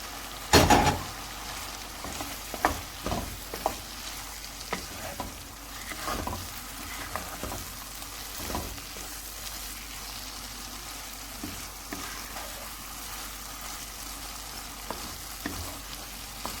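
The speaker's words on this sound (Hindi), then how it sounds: "अभी हम थोड़ी देर तक इसको भून लेते हैं ताकि भिंडी में सारे मसाले का जायका चला जाए।" Okra sizzles steadily in a pan with achari spices, broad frying hiss throughout, with a few sharp scrape-and-clack stir strokes near the start and scattered softer stirring later, no voices.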